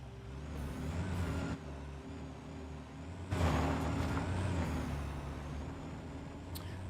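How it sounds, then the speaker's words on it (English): Trucks in the factory-building game Satisfactory rumble along with a low, steady engine drone, swelling with two bursts of hissing noise. "And other trucks are just driving through them anyway"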